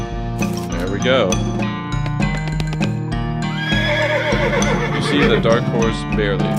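A horse in the video game West of Loathing whinnies and snorts several times, with hooves clip-clopping, while someone talks over it throughout.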